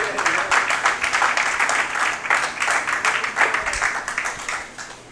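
Church congregation clapping for Christ during a Bible study, a steady, dense burst of many hands that fills the whole stretch, with voices mixed into the applause.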